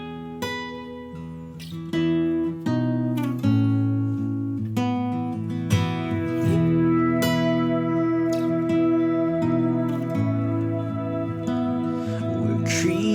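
Keyboard chords ring out, played both with and without a sustained synth pad layered underneath, the notes sounding in a slow, resonant, continuous passage.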